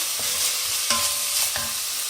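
Steady sizzling hiss of chopped vegetables frying in a soup pot, with a few light knocks of stirring, close and continuous without any voices.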